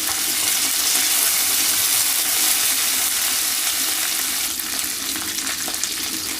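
Dried red chilies, curry leaves and green chili pieces fry in a hot pan for a snake gourd stir-fry, giving a steady, loud, continuous sizzle with faint stirring and no voices.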